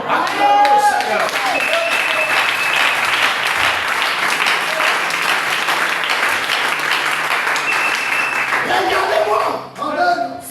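A church congregation bursts into sustained applause for the Lord, dense clapping filling the room for about nine seconds with voices calling out over it before it fades near the end.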